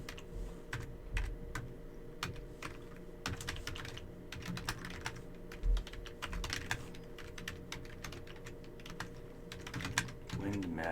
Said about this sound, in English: the group typing in the Google chat and the Google Doc